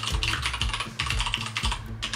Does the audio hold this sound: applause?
no